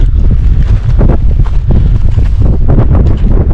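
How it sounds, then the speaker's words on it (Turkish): Strong wind on Dedegül Mountain buffets the microphone in loud, gusty bursts, a rough low roar with no other sounds standing out. "Ah, rüzgar esmese iyiydi."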